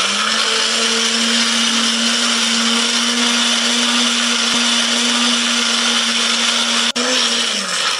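Electric blender grinding shallots, garlic and curly chilies with a little water: a loud, steady high whir runs for about seven seconds, then cuts off and winds down near the end.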